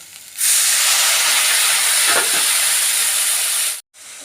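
Water poured onto a hot frying spice paste of turmeric, cumin and coriander powder: a loud, sudden steamy hiss that holds steady for a few seconds and then cuts off abruptly.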